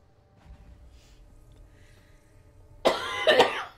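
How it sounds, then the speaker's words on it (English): One person coughs twice in quick succession after a stretch of faint background hum, close and loud, with no talking over it. "I haven't even had any dairy, but I'm still having coughing trouble."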